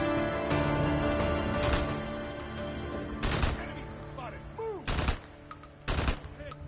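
An enemy's machine gun in Days Gone fires scattered bursts and single loud shots amid ambient game sounds, near and sharp, with talking heard between the shots.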